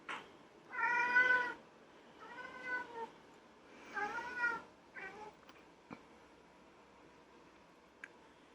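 A cat named Leo meows repeatedly at a bird on the other side of a window, several drawn-out chattering calls close up, then quiet with faint ticks.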